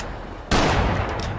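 A single loud, sharp gunshot from Fallout: New Vegas cracks close by, and its dense echo then fades away over about a second.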